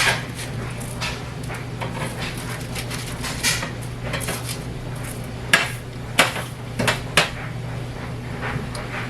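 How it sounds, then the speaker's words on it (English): Potatoes and broccoli are stirred in a hot pan for a HelloFresh meal. A utensil clinks and scrapes against the pan in a few sharp knocks, set over a steady sizzle and kitchen hum. "So let's go ahead and stir it up."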